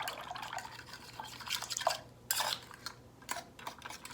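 A bread pudding mixture is stirred in a bowl, with a utensil clinking and scraping against the sides in irregular bursts and soft wet sloshing between, fairly quiet and close.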